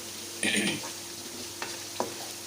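Ginger and garlic being fried in a pan, giving a short burst of sizzling followed by a couple of sharp utensil taps against the pan, close by, with no speech.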